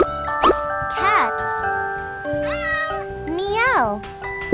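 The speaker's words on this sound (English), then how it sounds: "A cat makes a meow sound." Several domestic cat meows in close succession, rising and falling in pitch, loud and near, with a steady background tone running underneath.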